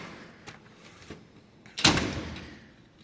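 A drawer on a US General tool box slides with a few faint clicks and then a sharp metallic rattling slide and clunk as it moves, close by with no talking.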